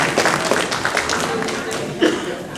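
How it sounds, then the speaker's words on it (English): An audience at a community cultural gathering's prize distribution claps in a fairly dense round, mixed with some talking and a light chuckle. "I think they do need another round of applause"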